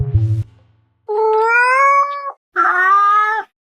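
A cat in heat lets out two long, drawn-out yowls, loud and close, after a brief low thump at the start, with a short pause between the cries.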